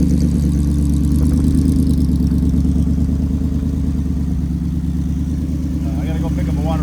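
A V8 car engine idles smoothly and loudly up close, a steady low rhythmic rumble that holds without revving, with faint mechanical clatter riding on top.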